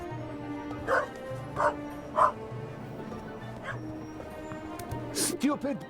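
Dog barking and yipping in The Raven video game: three short, moderately loud barks spaced about a second apart, then a few fainter yelps and whimpers, over a low game music bed with a voice near the end.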